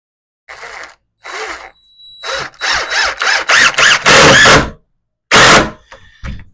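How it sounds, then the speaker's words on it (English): Deck screws driven by a power driver into roof trusses, toenailed at the end pieces: a series of loud, close whirring bursts, several in quick succession and then one final burst, with no talking. "I'll just toenail a couple of deck screws on these end ones."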